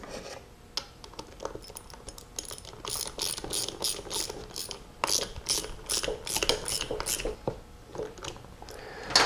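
A ratchet clicks in short, irregular bursts while torquing small screws down inside a drag race Powerglide transmission. The metallic ticking is close and sharp, with a few rubbing sounds between strokes.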